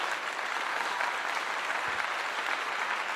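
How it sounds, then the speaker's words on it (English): A crowd claps steadily through the whole stretch, a dense even patter of many hands at moderate volume, neither swelling nor fading, with no voices over it. "I give you a clap."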